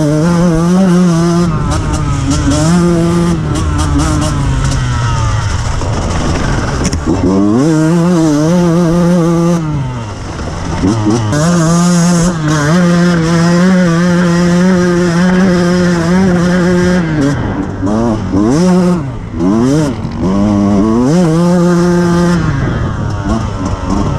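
A Beta 200 two-stroke enduro motorcycle is ridden on a test course, its engine revving loud and close, rising and falling through repeated throttle bursts and gear changes for over twenty seconds.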